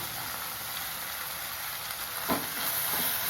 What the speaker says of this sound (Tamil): இப்போ பீக்கங்காயை அரிஞ்சி வச்சதை சேர்த்துக்கிறேன்